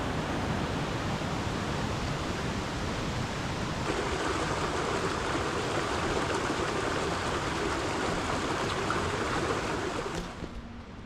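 A stream on the Roaring Brook Nature Trail in Baxter State Park rushes with high water, a steady broadband roar of flowing water, loud and continuous, fading slightly at the end.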